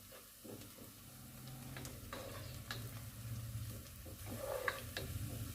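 Onions frying gently in a pan to soften without browning, for Hyderabadi-style baghara baingan, a soft steady sizzle with occasional stirring clicks and scrapes, close and fairly quiet, with no voices.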